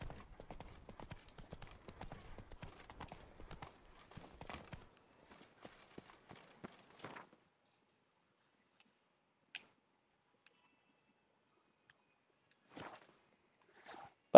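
Hoof clip-clops from a horse in the video game Witcher 3, a quick walking clatter at first that thins to sparse, isolated steps and near silence, with no voices.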